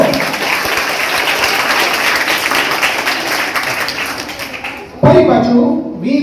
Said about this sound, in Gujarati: ઓડિયન્સ માટે ખૂબ જોરદાર તાળીઓ